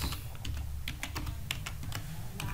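Computer keyboard keys clatter in quick, irregular bursts while entries are typed into an Excel spreadsheet, close and clear over a low steady background hum.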